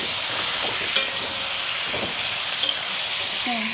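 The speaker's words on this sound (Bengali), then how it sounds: "এদিকে আমি মাংসটা ভাজা বসিয়ে দিয়েছি" About a kilogram of chicken meat fries in a pan with a little salt, giving a steady close hiss of sizzling with a few brief clinks of stirring.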